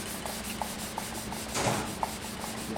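Fine-grit sandpaper worked back and forth on a wooden stave drum shell, a close, steady scratchy hiss with faint rhythmic strokes and one brief stronger pass.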